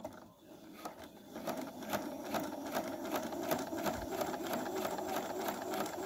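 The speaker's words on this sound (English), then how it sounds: "I'm going to basically do a basic straight stitch that's number 5, and the tension is on 3" A sewing machine runs a basic straight stitch with the tension set at 3, giving a steady rapid mechanical clatter close by for about six seconds, without talk.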